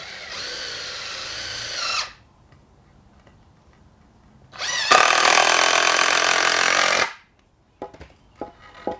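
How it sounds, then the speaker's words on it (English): Power drill driving two screws into scrap wood for an elevated stand: a whirring run, a pause, then a louder sustained burst, followed by light knocks and clicks. "Just going to go ahead and put 2 screws in there."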